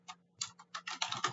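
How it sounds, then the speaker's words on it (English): A password tapped out on a computer keyboard: a quick run of about eight light key clicks, sparse at first and then faster, close and quiet, with no voice. "and type in our password"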